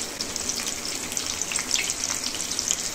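Tomatoes fry in a frying pan while cooking chapli kebabs, giving a soft, continuous hiss and crackle with scattered bright pops, moderately faint and steady throughout, with no talking.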